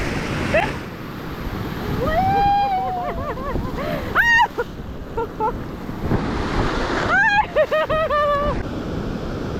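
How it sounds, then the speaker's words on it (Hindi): High ocean waves breaking on a beach in Goa give a broad, constant roar of surf and wind, loud and close, with excited voices calling over the water. "ऊंची लहर, ऊंची लहर। ओ बहुत ऊंची है, बहुत ऊंची है।"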